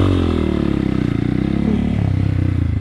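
A motorcycle ridden in a wheelie on the streets of St. Lucia, its engine holding a loud, steady pulsing drone close by with a rough clattering edge throughout.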